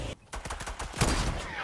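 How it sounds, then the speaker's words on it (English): A sniper rifle shot in the video game Fortnite, a sharp sudden crack followed by a burst of rapid repeated gunfire reports, with faint voice chatter underneath. "I just sniped him"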